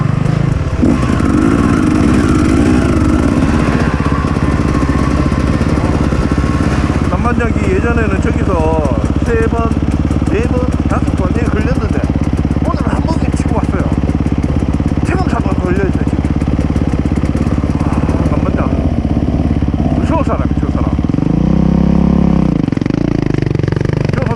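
A motorcycle engine runs steadily throughout, a continuous mid-pitched drone with some clatter, while people talk over it.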